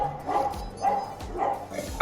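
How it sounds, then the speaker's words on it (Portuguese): A pack of dogs barks repeatedly in rough, irregular bursts, a few yips mixed in, at a moderate distance and fairly loud, with no talk over them. "A cachorrada tá danada hoje."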